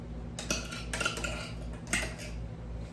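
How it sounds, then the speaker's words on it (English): Canned hash is scooped out of a can into a frying pan, giving a few soft metallic clinks and scrapes of a utensil against the can and pan, with quiet pauses between them and no talking. "taking this whole can and putting it in the frying pan over here."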